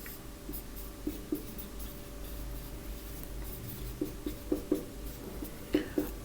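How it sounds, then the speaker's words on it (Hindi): A marker or chalk scratches across a board in short strokes with small tapping clicks between pauses, faint and close against a quiet room hum, with no talking. "मैं लिख देता हूँ"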